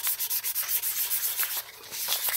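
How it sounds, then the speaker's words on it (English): Steady back-and-forth rubbing of sandpaper scuffing the surface of a stainless steel tumbler, rhythmic close strokes with brief pauses, loud and continuous with no talk. "I'm going to continue sanding all the way around until it's nice and scuffed up"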